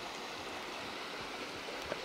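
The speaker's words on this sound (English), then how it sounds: "Cross this nice little creek" Small mountain creek flowing steadily, a continuous soft rush and trickle of water heard fairly close with no voices.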